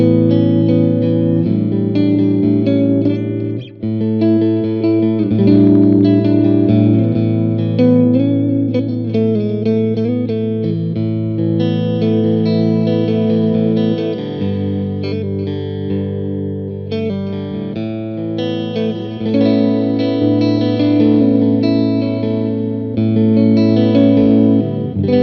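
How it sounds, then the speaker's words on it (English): Electric guitar with coil taps in a P90-type voicing, played through a MESA/Boogie Mark IIC+ amp, strummed chords and riffs ringing with some drive and reverb, loud and continuous with no talk. "I've got a P90 type voicing with the coil taps on this guitar"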